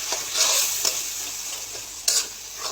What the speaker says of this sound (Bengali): ডিমের মশলাগুলো কষানো হয়ে গেছে